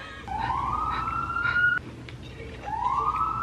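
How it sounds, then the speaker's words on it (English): A wailing emergency siren in Hollywood rises and sweeps in two long climbing tones, heard at moderate distance over steady street background noise. "Think of somebody, that's the sirens."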